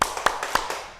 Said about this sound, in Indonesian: sekarang Ibu mau tepuk